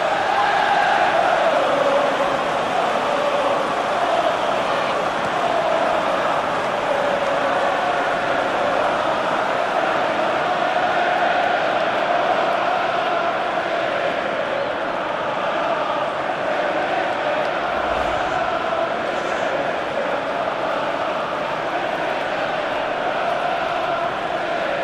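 Stadium crowd roar from FIFA 14 on PS4 at a Northampton Town league match, a dense continuous wash of massed voices held steady and fairly loud throughout with no clear commentary on top.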